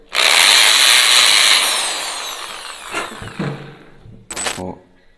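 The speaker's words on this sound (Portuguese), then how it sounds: "Vai precisar de uma furadeira" A power drill reams the open end of a pipe, giving a loud, continuous whirring grind that fades out after about two seconds, followed by a few scattered knocks and clatters as the work settles.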